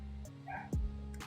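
A dog gives one short, faint yip-like bark over a low steady hum, heard once in the middle of an otherwise quiet moment.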